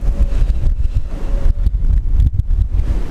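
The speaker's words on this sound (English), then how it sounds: "it's super windy again." Strong wind buffets the microphone in heavy, uneven low rumbling gusts, with no voices.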